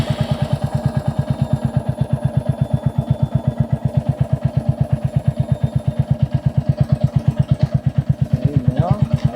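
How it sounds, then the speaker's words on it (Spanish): A Royal Enfield Hunter 350 motorcycle's engine and exhaust idle close by with a loud, even, rapid thumping pulse, and a slight rise in revs comes right at the end. "para que escuchen un poco cómo suena el motor y el caño de escape"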